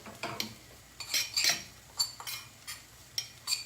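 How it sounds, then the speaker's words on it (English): Spices with coriander powder stirred in a cooking pot, a quick run of light metallic scrapes, clinks and taps of a spoon against the pot, close and unhurried with brief pauses between strokes. "now let me just stir it a little"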